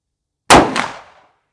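A single loud gunshot from a Big Horn Spike Driver takedown revolver in .500 Magnum at an outdoor range, a sharp blast followed by a quick echoing crack that decays within about half a second.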